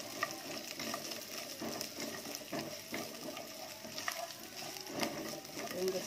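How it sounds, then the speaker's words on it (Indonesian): Garlic and ginger sauté in a pan for a meatball soup broth, giving a soft, steady hiss with scattered crackles and light scraping from stirring, close but fairly quiet. "ini ada bawang putih sama jahe. Tumis bentar"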